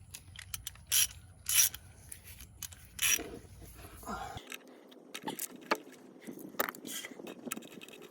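A ratchet with a 17 mm socket clicks in short bursts on the oil filter housing of a 2018 BMW 530i, quiet close-up metallic ratcheting separated by pauses and light rubbing noises.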